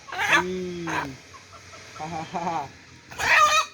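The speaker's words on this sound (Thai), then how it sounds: "ไก่นี่ไก่ผู้เนอะ" A rooster on a Thai farm clucks and crows in short bursts, loud and close, with a pause between calls and a final strong crow at the end.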